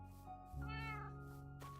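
A single cat meows once, fairly clear and brief, over a quiet steady background hum, from a cat in Minecraft.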